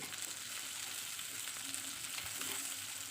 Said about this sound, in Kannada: ಈ ಥರ ಸೈಡಿ ಸೈಡಿಗೆಲ್ಲ ಟರ್ನ್ ಮಾಡಿ ಮಾಡಿ ಫ್ರೈ ಮಾಡಿಕೊಳ್ಬೇಕು